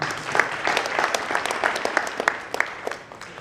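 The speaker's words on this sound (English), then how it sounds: "let's clap for Benman." An audience at a business event applauds with brisk, scattered clapping from a modest crowd, moderately loud and continuous for a few seconds with no talk over it.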